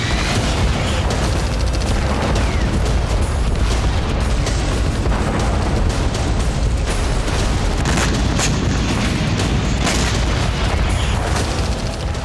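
Explosions from Ukrainian strikes on Crimea echo in news footage, a dense, continuous barrage of booms and sharp bursts layered over a constant rumble, loud throughout with no speech.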